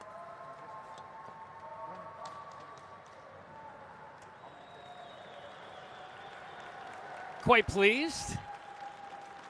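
A speed skating World Cup crowd in Salt Lake City applauds with steady, moderate clapping and cheering under a commentator's voice, plus a brief louder burst of noise near the end.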